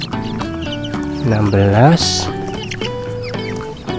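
Baby chicks peep in high, bright bursts as they are counted one by one into a container, a person speaking loudly over them throughout.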